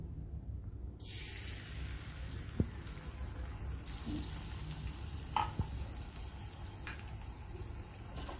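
Crushed green chili and garlic paste sizzling in hot oil in a kadhai on a gas stove, a steady crackling fry that starts abruptly, with a couple of faint clinks and stirring scrapes, and no talk.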